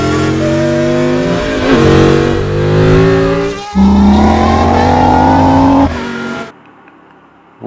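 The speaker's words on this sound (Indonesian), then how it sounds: "Wadidaw, ini mobil Lightning McQueen." Lightning McQueen toy race car with a loud, continuous engine-rev sound effect, rising and falling in pitch, then cutting off abruptly near the end, with no talking.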